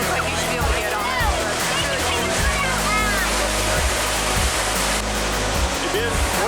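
A national park waterfall roars as a loud, steady wash of broadband noise close by, with people talking faintly underneath.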